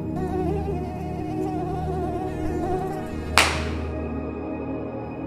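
Aedes aegypti mosquito buzzing, a thin whining hum near the ear that wavers in pitch, cut short by a sharp slap, after which a faint steady tone lingers.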